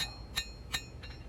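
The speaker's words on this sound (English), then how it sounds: "squeezing the metal between the hammer and the anvil" Hammer strikes drawing out a hunter knife blade with an integral guard on a forge anvil, squeezing the metal down for width: three sharp metallic blows at a steady rhythm, fairly faint and close.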